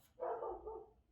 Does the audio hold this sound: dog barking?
yes